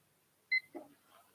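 A kitchen timer started during pour-over brewing of a competition Gesha coffee gives a single short, clear electronic beep, quiet and close, followed by soft handling clicks.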